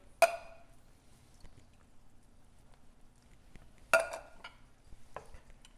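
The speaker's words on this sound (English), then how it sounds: "Just stir it all up." A spoon stirs canned fire-roasted tomatoes in a pot, giving two sharp scraping clanks against the metal a few seconds apart, followed by a softer wet knock, with quiet stretches in between.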